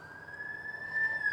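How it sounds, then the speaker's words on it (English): Police car siren wailing at a steady pitch, fairly faint and distant, growing slightly louder. "Sirens, the flashing lights, they were rushing and they were coming closer with each and every sleepy blink"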